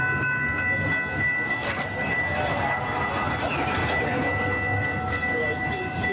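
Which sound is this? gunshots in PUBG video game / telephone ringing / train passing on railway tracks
train passing on railway tracks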